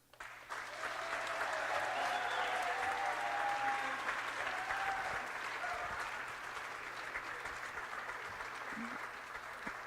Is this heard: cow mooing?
no